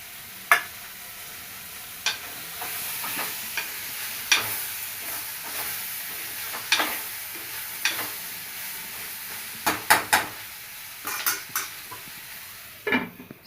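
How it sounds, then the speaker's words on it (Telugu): Curry leaves frying in hot oil in a pan, a continuous soft sizzle punctuated by a dozen or so sharp clinks and scrapes of a utensil against the pan. "కొంచెం కరివేపాకు కూడా వేసుకుంటున్నాను."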